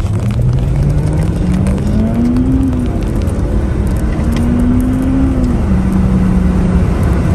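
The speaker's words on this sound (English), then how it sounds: "Now let's check out the 0 to 60 time of the Honda Civic Type R." A Honda Civic Type R and a BMW 320d accelerate from 0 to 60 mph, engines rising in pitch through two long pulls separated by a quick gear change, loud and close over constant road and wind noise.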